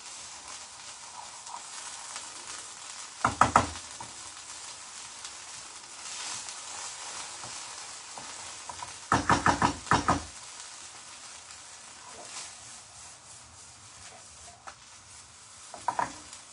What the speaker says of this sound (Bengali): এটা আরও 3-4 মিনিট একটু ভাজা ভাজা করতে হবে।